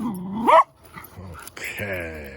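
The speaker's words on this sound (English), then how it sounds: "What are we barking at, huh?" A dog barks and growls up close in a yard, a short sharp bark then a low growl and whine, with a voice speaking around it.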